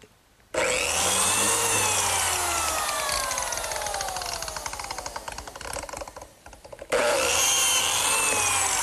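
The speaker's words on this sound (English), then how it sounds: "I use this biscuit joiner, which is a tool specifically designed to pivot and plunge this little saw blade" A biscuit joiner spins up with a loud whine and plunges its small blade into a wooden workpiece, the cutting note sagging under load, then briefly dropping before the motor revs freely again.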